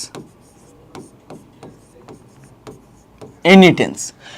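Chalk or marker strokes tap and scrape on a classroom board in short, evenly spaced bursts, followed by a teacher's voice speaking briefly at the end.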